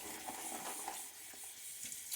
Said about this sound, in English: I'll talk while I'm rinsing out and cleaning out my bowl here.